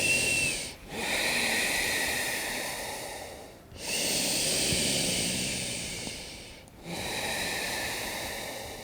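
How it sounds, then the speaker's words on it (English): Deep, slow breaths during a yoga downward facing dog, three long airy exhalations close to the microphone, each separated by a brief pause, loud and alone with no talking. "Take those 5 deep breaths"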